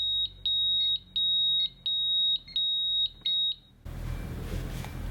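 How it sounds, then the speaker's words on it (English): A Pyronix Enforcer home alarm panel sounds its entry countdown: a run of sharp, high, evenly spaced beeps close by, about eight in a row, before the beeping stops and quiet room noise follows. "On your return to the property, you get a countdown timer when entering"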